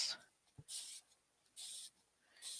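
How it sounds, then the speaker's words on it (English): A spray bottle mists water onto watercolor paints in three separate hissing bursts, soft and close, with quiet pauses between them. "So I'm just going to spray my paints."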